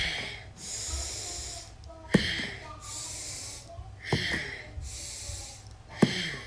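Deep breathing during a gentle post-Covid recovery exercise routine: slow, regular breaths with hissy inhales and exhales repeating about every two seconds, close and fairly quiet, with a few soft knocks.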